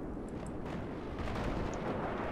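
Artillery fire in the video game Battlefield 3 multiplayer, a constant dense rumble of distant shelling and explosions with a few faint higher crackles over about two seconds, no voices.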